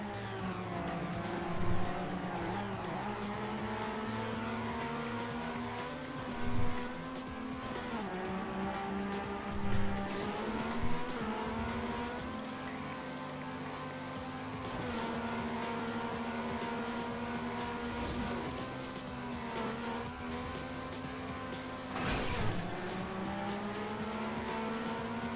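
A race car engine in the Trackmania Nations racing game drones steadily throughout, its pitch rising and falling with acceleration, with a few brief tire-squeal bumps along the way.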